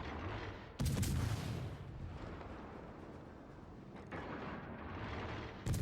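Warship guns open fire in World of Warships: Legends, several heavy booming salvos cutting through a constant rumbling roar of in-game battle noise, one at the start and another near the end.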